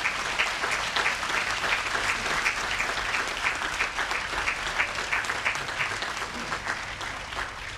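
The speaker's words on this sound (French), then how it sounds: "je crois que toute l'équipe mérite nos applaudissements" Steady, dense applause rises from an audience at a beatification ceremony, continuous and fairly far off in a large space.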